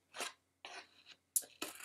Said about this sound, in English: I'm gonna take my scissors and in the middle, I'm gonna cut along that crease